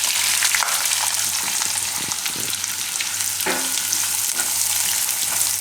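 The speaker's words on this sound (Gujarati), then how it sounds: "ડુંગળી થોડીક વાર આપણે પકાવી લેવું તેલમાં." Onions with red and green chillies fry in oil in a pan, giving a loud, constant close sizzle with a few faint stirring clicks and no talking.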